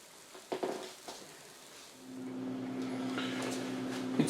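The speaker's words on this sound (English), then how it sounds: "About 4 minutes frying time." A few light clinks and taps, then a steady, gentle sizzle of green onion whole wheat bread frying in a pan, with a faint hum underneath.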